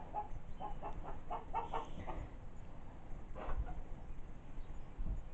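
A laying hen clucks in a poultry yard, a series of short, moderately near calls in irregular bursts over a steady outdoor hum, with no voices.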